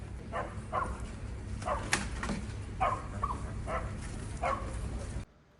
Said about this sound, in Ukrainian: активно махає хвостом та гавкає